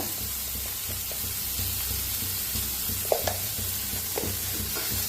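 Turmeric and ground spices stirred into hot oil with finely chopped curry leaves, giving a continuous close sizzle broken by a few soft scrapes of a spoon in the pan, with no talking.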